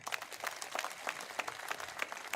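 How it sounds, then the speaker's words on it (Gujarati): A crowd at a Lok Sabha election rally in Navsari, Gujarat, claps together in a steady, even rhythm. The sound is moderately distant and holds at a constant level with no speech over it. "ચાલો એકવાર બધા એક સાથે તાળી પાડી દઉં"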